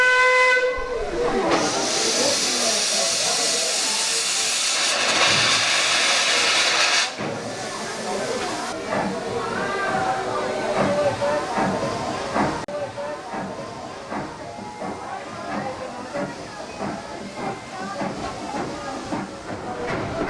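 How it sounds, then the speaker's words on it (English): A steam locomotive whistle shrieks briefly on the Great Central Railway, then a long burst of hissing steam follows as the train pulls away, with voices faint beneath it. "that whistle means that Thomas is about to depart"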